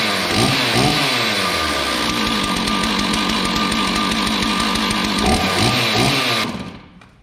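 A Stihl 461 chainsaw, just fitted with a new sprocket and rim, runs close by at a steady, loud idle-to-rev drone for several seconds, then shuts off and fades quickly.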